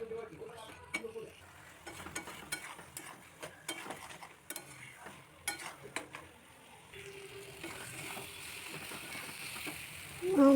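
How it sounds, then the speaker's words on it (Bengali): Boiled peas and potatoes are stir-fried with spices in a pan for ghugni, the spoon scraping and knocking in irregular bursts over a low sizzle that rises toward the end. "এবার ভালো করে নেড়ে চেড়ে মটরটা আর আলুটা মশলার সঙ্গে কষিয়ে নেব ভালো করে।"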